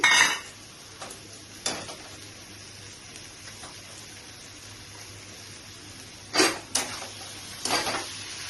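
Pre-fried soybean chunks are tipped into a cooking pan for a radish-and-potato curry, giving a few sharp, sparse clinks of metal utensil against the pan over a quiet kitchen background.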